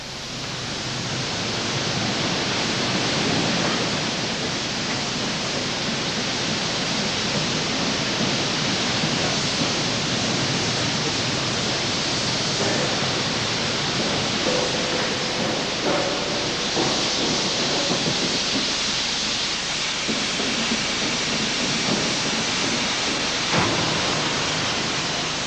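A 4-high single-stand reversing roughing mill rolls a metal slab, producing a loud, steady industrial roar with a broad rushing wash of noise that holds constant throughout, with faint clanks and tonal whines surfacing midway.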